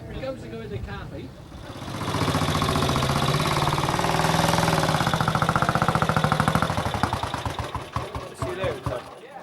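A vintage New Hudson overhead camshaft motorcycle engine approaches and runs loudly, a steady thumping mechanical beat that swells over several seconds, then fades slightly as it passes.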